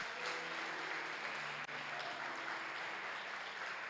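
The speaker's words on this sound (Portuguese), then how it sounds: "Você pode aplaudir ao nome do Senhor." A church congregation applauds together, a sustained, even wash of many hands clapping heard from a distance, fairly quiet and continuous throughout.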